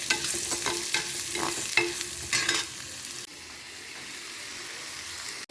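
Onions sizzle steadily as they are sautéed in a pan for a mutton brain roast, and rhythmic spatula scrapes stir them for the first few seconds. After that the frying carries on alone as a softer, even hiss.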